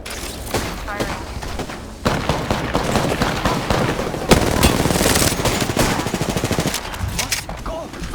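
Rapid automatic gunfire in the battle royale shooter Apex Legends, dense bursts and volleys running almost continuously, loud and close, with a heavier stretch of shots midway and in-game voice lines faintly underneath.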